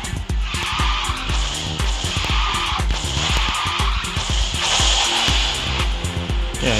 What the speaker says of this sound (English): even that car's nitro sound is different